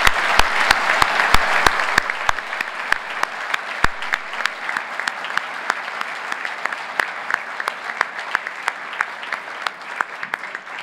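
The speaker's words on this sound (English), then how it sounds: "please applaud the new fellows of the Academy of Arts and Humanities." An audience at an academy ceremony welcoming new fellows of arts and humanities applauds loudly and steadily, a dense wash of clapping that swells early then holds for about ten seconds with scattered sharp claps.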